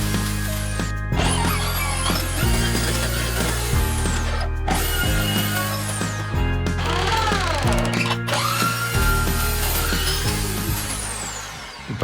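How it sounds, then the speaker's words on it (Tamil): A power drill boring a hole for a rod insert while building a DIY coffee table, its motor whirring steadily in loud, repeated bursts with rising and falling pitch sweeps and short pauses between runs. "ஸோ இப்போ ட்ரில்லிங் மிஷினை வச்சு நம்ம பண்ணுவோம்."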